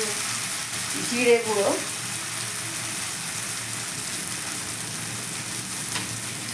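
Green banana peel paste frying with spices in a pan, a steady low sizzle throughout, while a voice briefly speaks early on.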